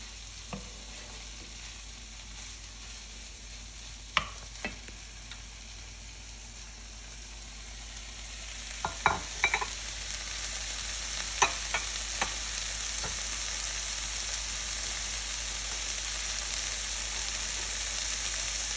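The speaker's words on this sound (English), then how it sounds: "So we're going to add the spinach, and this only takes 3 minutes to cook." Spinach frying in a pan, a steady soft sizzle throughout with a few sharp scrapes and clicks of stirring scattered across it, building slightly louder partway through; no one speaks.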